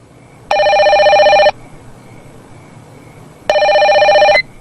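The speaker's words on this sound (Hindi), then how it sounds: "टेलीफोन।" A telephone rings in an Urdu-dubbed drama scene: two loud, close electronic rings, each lasting about a second, separated by a quiet pause, with no talk over them.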